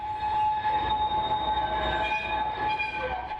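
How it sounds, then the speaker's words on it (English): A Royal Mail underground mail train rumbles along beneath London while its wheels screech in high, sustained metallic squeals as it rounds a curve, loud and continuous. "the sound of the train as it screeches as it rounds the corners"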